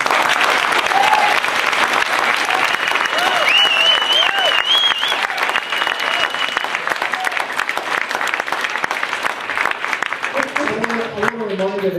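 Audience applause at a Venice neighborhood council board meeting, dense clapping and some cheering that carries on for twelve seconds while a few voices call out over it and a speaker begins talking near the end.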